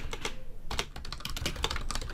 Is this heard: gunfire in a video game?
no